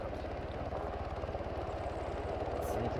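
A military helicopter's rotor thumps steadily at an end-of-deployment ceremony, a loud continuous chopping drone with engine rumble and no break throughout.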